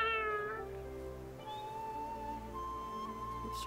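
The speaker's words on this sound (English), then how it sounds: "My little cat popped up from the foliage." An in-game cat in Guild Wars 2 meows in a drawn, tonal call, followed by a second softer, longer meow, with steady game music underneath.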